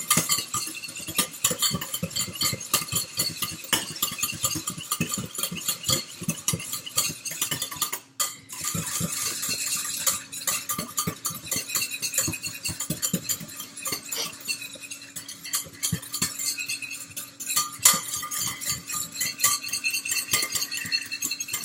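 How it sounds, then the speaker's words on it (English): Chicken eggs beaten by hand with a whisk against a bowl, a long run of quick, irregular clinking and tapping strokes, fairly close and steady with brief pauses. "we have most of the night to keep whisking these eggs"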